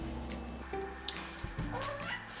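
Hungry cats meowing indoors, a few short faint mewing calls scattered over a quiet background, with no talking.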